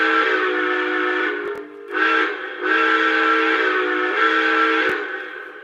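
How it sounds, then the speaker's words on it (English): A model train steam whistle blows in several long chord-like blasts with short breaks between them, clear and fairly close, with no talking. "I love this whistle."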